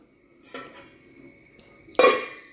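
A lid is set over a bowl of marinated prawns for prawn Manchurian, making a soft clatter followed by a louder, sharper metallic clank against the rim.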